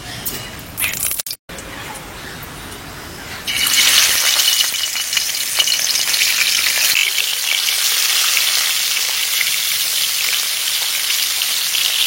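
Oil hits a hot pan for village-style cooking, a brief clatter followed by a sudden loud sizzle that breaks out and keeps hissing steadily and close.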